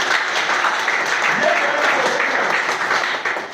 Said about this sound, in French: Quelqu'un peut acclamer le Seigneur Jésus